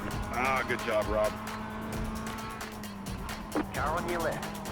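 In the iRacing game, a race car engine whines past alongside, its pitch rising and falling in sweeps over a steady drone. A voice talks intermittently over it.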